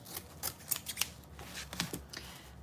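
Scissors snip through stiff woven sinamay straw in a quick run of close, crisp cuts, each a short dry crunch, over a quiet room.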